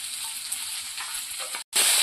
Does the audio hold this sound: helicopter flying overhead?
no